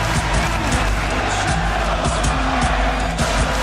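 A loud, dense crowd roar in the wrestling video game WWE 2K16 fills the whole stretch, with rhythmic "Let's go Bryan" chanting and cheering swelling continuously and no distinct individual voices.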